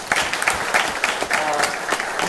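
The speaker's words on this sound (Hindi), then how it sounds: "एक ताली तो बचनी चाहिए" An audience at a film festival awards ceremony breaks into clapping, a dense run of many hands applauding at steady loudness throughout, with faint crowd murmur underneath.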